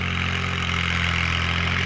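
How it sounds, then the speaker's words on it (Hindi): Massey Ferguson 7250 50 HP tractor ploughing deep furrows in a field, its diesel engine a loud, steady low rumble with a regular throbbing hum close by. "ये मैसी है जी 72-50 50 HP, ये 50 HP है जी 72-50 मैसी।"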